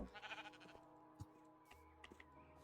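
Very faint sheep bleats in the video game Minecraft, a wavering cry near the start with softer blips afterward, sitting low beneath a steady background hum.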